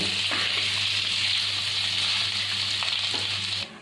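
Potatoes frying in a pan over a high gas flame make a loud, even hiss under a low steady hum, continuing unbroken and then dropping off abruptly near the end.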